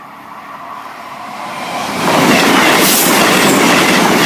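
A Class 221 Super Voyager four-car diesel train passes a level crossing at Oddingley, Worcestershire, approaching with a building rumble and then roaring loudly by, with rushing wheel and rail noise close at hand.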